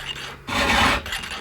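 Hand file rasping across a chainsaw chain to sharpen its cutters, a close, steady scraping that swells into a longer, louder stroke in the middle, with no talking.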